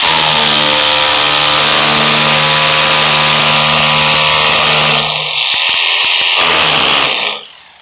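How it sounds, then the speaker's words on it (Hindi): Power drill boring into a wall to mount a split AC indoor unit, a loud steady whine with strong tonal harmonics running for about seven seconds, then briefly stuttering and cutting off at the end. "चलिए ड्रिल करिए।"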